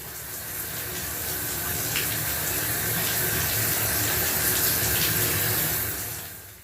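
Water pouring down steadily from above, a continuous broadband rush like a running tap or shower, loud and unbroken with no voices, fading slightly at the end.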